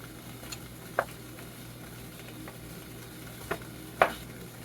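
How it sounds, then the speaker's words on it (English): Strawberry jam cooking in a pot sizzles quietly on the bottom, with a low steady hiss broken by a few soft pops and ticks. "This is sizzling away on the bottom."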